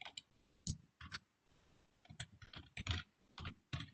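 Quiet bursts of computer keyboard typing while C code is written, with irregular clusters of sharp key clicks separated by short pauses, close and alone.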